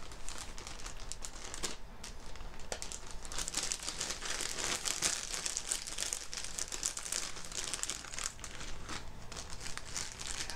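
Plastic bags crinkling and rustling steadily as mail is unwrapped, a close, continuous papery crackle with occasional sharper crinkles and no talking.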